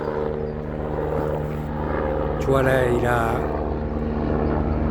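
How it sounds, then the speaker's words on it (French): A firefighting helicopter passes overhead during wildfires in Spain, its steady rotor drone and engine hum continuous and fairly loud, with a swelling whine midway as it nears, while someone talks over it. "Ça, c'est le premier hélico."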